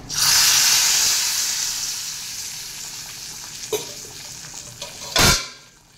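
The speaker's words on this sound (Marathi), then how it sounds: "आता ही फोडणी आपण याच्यामध्ये अळूमध्ये घालूया" Hot tempering of dried red chili, asafoetida and mustard seeds poured into colocasia leaf curry, a loud burst of sizzling that gradually fades, followed by a few stirring clinks and a final sharp spoon knock.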